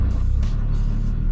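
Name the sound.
Nissan GTR transmission rattling and clunking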